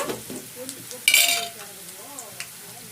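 Onions frying in a pan while being stirred, a quiet sizzle broken by a sharp metallic scrape and clatter of the spoon, with faint voice-like sounds in the background.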